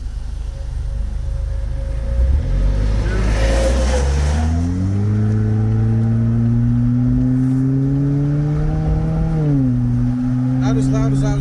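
A 2023 Chevy Silverado with the 2.7 turbo engine and its muffler and resonator deleted accelerates on the road, its exhaust droning loudly and rising steadily in pitch, dipping briefly at a shift and then climbing again.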